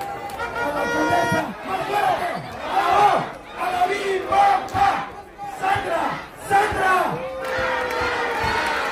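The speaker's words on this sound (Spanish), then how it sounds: "Un fuerte aplauso" Lucha libre crowd cheering and applauding, loud surging shouts and chants rising and falling in waves over a dense roar, with scattered whistles.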